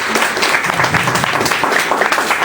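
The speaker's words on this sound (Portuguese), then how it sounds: "está aqui o companheiro Chico, uma salva de palmas para o companheiro." Loud, close applause from a crowd at a left-wing political rally in Brazil, dense continuous clapping from many people holding steady throughout.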